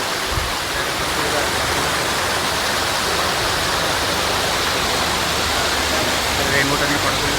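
A waterfall beside a mountain path on the Kedarnath trek gives off a loud, steady roar of rushing water that fills the whole stretch without a break.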